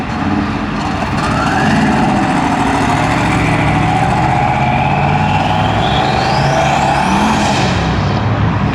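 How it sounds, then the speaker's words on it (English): A modified turbocharged C5 Corvette rolls out of a Texas muscle car show, its engine a loud continuous roar with rising whining sweeps like turbo spool, close and steady throughout with no talking. "We got the insane Turbo C5 rolling out."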